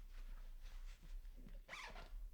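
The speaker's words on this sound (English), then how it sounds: "Again, good strong sturdy zips." Zippers on a camera bag for FX30 and FX3 cameras are pulled in several short rasping strokes, with one longer, louder zip near the end, close and fairly quiet with no talking.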